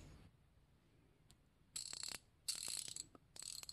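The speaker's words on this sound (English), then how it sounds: "90 tooth ratchet, so it's very fine tooth, and the mechanism in here is similar to the gear wrench mechanism" A Tekton 90-tooth fine-tooth ratchet clicks in three short bursts of rapid, fine buzzing clicks, close and quiet, separated by brief pauses.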